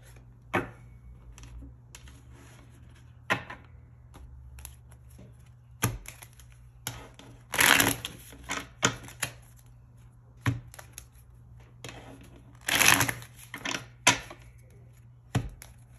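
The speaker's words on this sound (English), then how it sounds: "So we're going to take out my other cards here. I will shuffle them." Tarot cards being shuffled in a quiet room: scattered soft taps and a couple of longer riffling bursts over a steady low hum.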